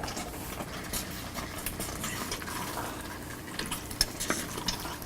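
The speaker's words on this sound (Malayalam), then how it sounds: "ഇതിലോട്ട് നമ്മൾ കട്ട് ചെയ്ത് വെച്ചിരിക്കുന്ന പോർക്ക് മീറ്റ് ഇട്ട് നന്നായിട്ട് മിക്സ് ചെയ്യുക." Cut pork meat being stirred into a soft tomato masala for Kerala-style pork vindaloo, a steady wet scraping and squelching in the pot throughout, moderately close, with a couple of sharper clinks near the end.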